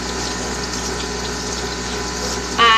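Water running steadily during rinsing, a constant gushing flow at moderate loudness, with a brief brighter splash near the end and no talking.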